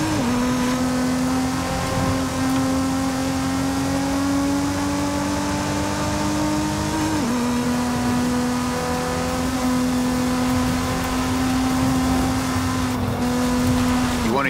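A car engine in Forza Horizon 5 holds a steady, loud drone with a smooth pitch, dipping once midway as if shifting gears, while it cruises continuously throughout.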